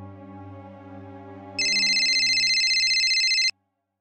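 A phone ringtone plays loudly and alone: a low repeating melody joined midway by bright, rapidly pulsing high tones, then cut off abruptly.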